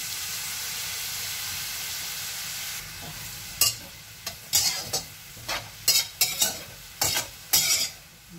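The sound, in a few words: vegetables stir-frying in cooking oil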